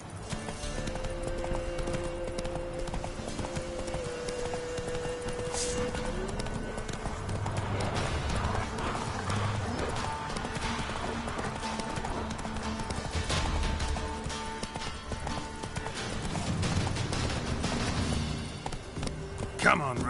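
Roach the horse gallops in The Witcher 3, a steady rapid clip-clop of hooves running continuously over background game music, with a voice speaking near the end.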